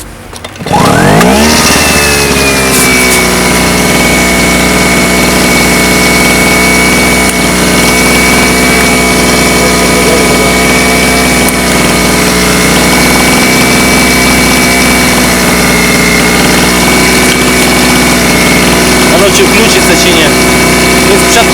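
A two-stroke inverter generator under repair, pulled into life in the first second and then running loud and steady for the rest, its close engine drone holding an even pitch with slight wavering.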